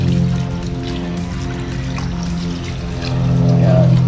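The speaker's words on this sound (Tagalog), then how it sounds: "lagyan na natin ng tubig" Water pours steadily into a pot of sautéed native chicken for tinola, a continuous splashing stream that grows fuller near the end, heard up close.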